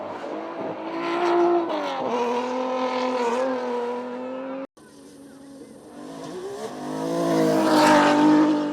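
Classic Datsun 280Z rally car racing on the East African Safari Classic, its engine loud and close, revving high and climbing through gears, with a brief cut midway before another surge of acceleration.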